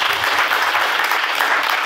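A studio audience on a Russian television show applauding, dense steady clapping that fills the whole moment at close, loud level with no talk.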